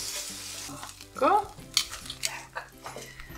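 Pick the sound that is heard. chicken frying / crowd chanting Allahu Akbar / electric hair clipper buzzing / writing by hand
chicken frying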